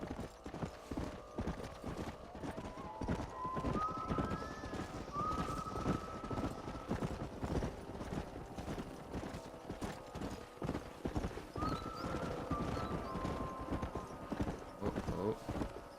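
Horses in the Red Dead Redemption video game clip-clop steadily along, hooves thudding in a brisk continuous rhythm, with a few short whinnies rising over the hoofbeats and faint voices in the background.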